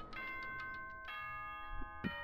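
A school announcement chime from the Danganronpa video game rings out as a clear electronic ding-dong, a short series of bright sustained tones decaying over a low hum, with no talk.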